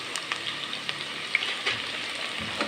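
Finely chopped onions frying in a pan: a dense, even crackling sizzle with faint pops, moderately loud and continuous, no voices.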